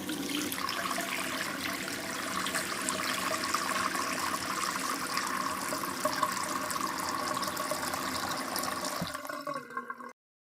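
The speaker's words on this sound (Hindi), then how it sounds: "तो अब इसमें मैं पानी शामिल करूँगी।" Water pours steadily into a cooking pot, a continuous splashing gush that runs close and loud for about nine seconds before stopping abruptly, with no talking.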